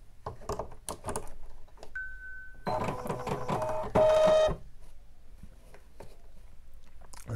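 A Bernina 570 embroidery machine with a hooped design and Deco Bob bobbin thread runs in short buzzing, whirring bursts, with beeps from the machine and scattered mechanical clicks between them.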